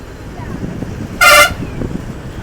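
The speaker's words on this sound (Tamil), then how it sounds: "ஹார்ன் அடித்து போய்க்கணும்" A single short blast of a loud truck horn cuts through steady highway road noise and engine rumble, on a road near Vellore in Tamil Nadu.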